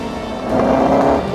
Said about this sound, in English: the sound of its thunderous 3-litre straight-8 engine